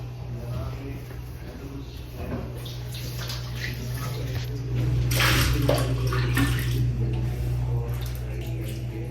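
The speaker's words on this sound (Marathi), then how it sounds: "आता पाणी टाकून घेते" Water running and splashing steadily into a dishwasher during cleaning, over a constant low mechanical hum, growing a bit louder midway.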